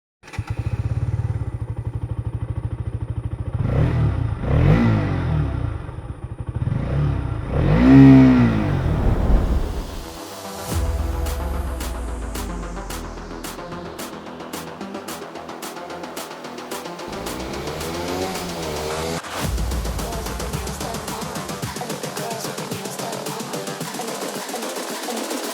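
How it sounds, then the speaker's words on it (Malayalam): A 2021 KTM Duke 200 BS6 motorcycle idles, then revs in repeated loud, close blips of its exhaust, rising and falling before settling into a steady idle with further throttle bursts. "എക്സോസ്റ്റ് നോട്ട് ഒന്ന് കേൾപ്പിക്കാം."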